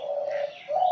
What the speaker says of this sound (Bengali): ঘুঘুর ডাক কিন্তু অনেক সুন্দর লাগে